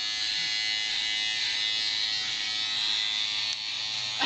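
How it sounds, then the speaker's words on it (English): Electric shaver shaving thick stubble on a chin, a close, steady buzzing drone with a rough grating edge that holds almost unbroken throughout. "That sounds like it's actually grating against your chin."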